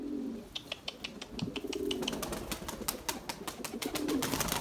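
Erzurum white pigeons coo in a low, continuous burble while sharp bursts of wing flapping crack out repeatedly, growing busier toward the end in a noisy loft.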